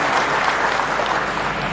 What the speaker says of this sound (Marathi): मला कंठ सुटला जरा टाळ्या वाजला.